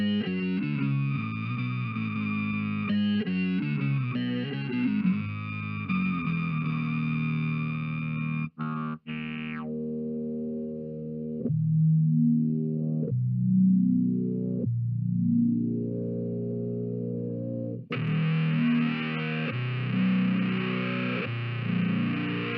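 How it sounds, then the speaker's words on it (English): A bass runs through a synth wah pedal stacked with fuzz, producing distorted, sweeping filtered tones with squelchy rising swoops, brief dropouts and a bright buzzing burst near the end, loud and alone without speech. "we got the bass synth wah, one of my favorite pedals, just because it's so ridiculous in terms of how many weird sounds you can make."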